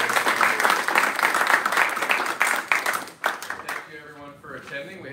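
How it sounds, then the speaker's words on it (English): An audience applauds at a summer research student panel, broad sustained clapping filling the room at steady loudness for about three seconds, then thinning out and fading as a few voices rise underneath. "Well, can we get a round of applause?"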